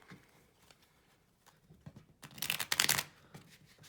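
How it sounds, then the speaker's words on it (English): Quiet rustling leads into a brisk riffle of cards, a dense flurry of fluttering snaps lasting about a second before fading to soft handling noise. "Now, what I'm going to do is I'm going to do another quick shuffle."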